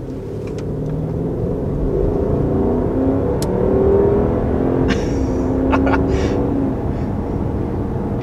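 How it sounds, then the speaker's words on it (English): A 2020 Mercedes S-Class limousine accelerating hard, a steady engine and exhaust drone with road rumble building and holding at close range, a few brief higher whooshes mixed in. "And the exhaust note too."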